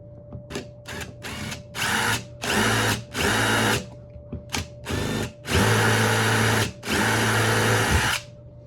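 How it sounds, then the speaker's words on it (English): A power drill whines in repeated bursts while drilling holes through a coconut shell, short at first then longer sustained runs, with brief pauses between each, close and loud. "we're gonna drill out the holes for the output jacks"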